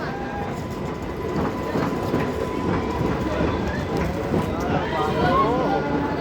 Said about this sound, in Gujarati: જ્યાં આ ટ્રેન રેગ્યુલર પણ ઊભી રહેવાની છે.